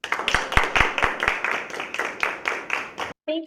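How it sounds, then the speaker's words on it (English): An audience applauds with hands and stamping feet at a university music event, a dense close roar of clapping over regular heavy thumps of feet, then a sudden stop followed by a brief voice. "foot applause and hand applause"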